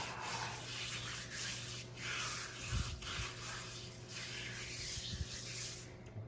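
Coarse salt is rubbed by hand onto a raw pig belly for curing, giving close, gritty scraping and rubbing strokes in an uneven rhythm, with a few soft thumps of handling.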